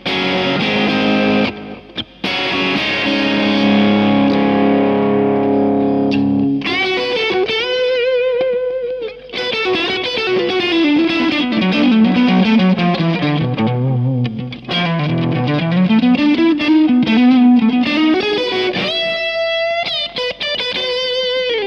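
Electric guitar through a tube amp and a Box of Rock distortion pedal plays bluesy lines: a strummed, crunchy chord section, then sustained bending single-note phrases, loud and close with no talking.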